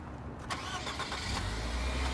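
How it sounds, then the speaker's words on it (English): A 2020 Nissan Qashqai SV engine cranks and catches, then settles into a steady low idle heard up close, with a brief rise in rumble as it fires. "you can hear that car started"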